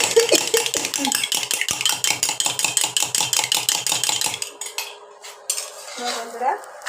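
An egg beaten briskly with a utensil in a bowl, a rapid rhythmic clinking that runs for about four seconds before stopping, followed by quieter handling sounds and faint background voice.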